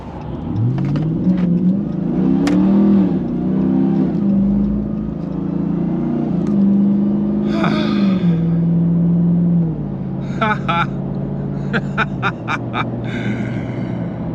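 A RAM TRX pickup truck's engine rumbles steadily while driving, rising and falling as it revs and accelerates, loud and close, with no talking.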